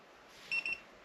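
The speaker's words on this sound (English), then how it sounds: "It just beeped." Two quick, high electronic beeps in close succession, clear and near, over a faint background hiss, from an Xtool A30M automotive diagnostic scanner.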